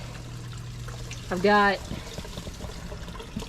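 Water trickles steadily through a gutter downspout fitted with a net bag, part of a hydroponic setup; a low continuous running sound, with a brief voice speaking over it midway.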